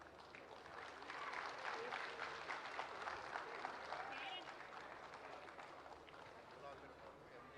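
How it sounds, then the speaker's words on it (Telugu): Audience applause at a public ceremony for a 600 MW solar power plant in Jammalamadugu, Kadapa district, a steady dense wash of clapping that holds from start to finish with some chatter underneath. "once again let's give a round of applause to him please"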